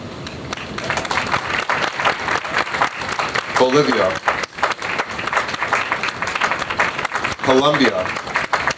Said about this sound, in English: please feel free to acknowledge each country by a round of applause.